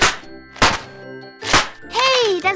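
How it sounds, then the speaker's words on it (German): A cartoon Christmas cracker is pulled at a family Christmas dinner, giving a couple of hollow thunks and a whack, followed by a brief bright chiming tinkle, loud and close. "Hier sind Knallbonbons."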